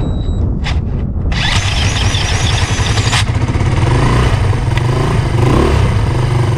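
A Honda ATC three-wheeler engine under restoration is kick-started and keeps running with a loud, harsh, steady buzz at close range, with a short pause in the first second before it settles into a continuous drone.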